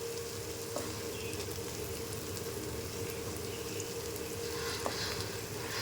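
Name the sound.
garlic frying in oil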